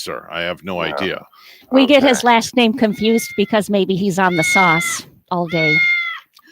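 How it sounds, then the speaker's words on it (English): A cat meows in a radio studio, its cries mixed in with the close, loud voices of people talking on air. "that's our cat here in the studio"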